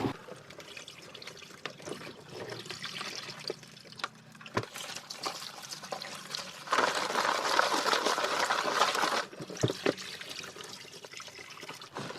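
Water splashes and trickles while field crabs are washed in a basin for pickling, with irregular sloshing and a louder stretch of running water midway.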